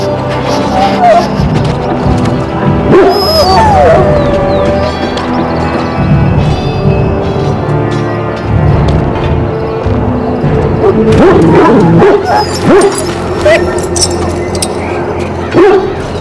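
A dog in the fantasy game Dragon Age: Origins barks and yips in repeated bursts, then whimpers, close and loud, mixed with game voices speaking and a faint clink.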